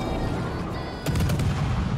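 Warship guns in a World of Warships naval battle thunder under a steady rumble, with a cluster of sharp, loud salvos erupting halfway through.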